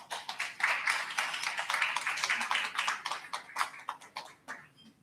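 An audience gives a round of applause at a South Africa–Colombia forum, a brief patter of clapping from a modest crowd that thins out toward the end.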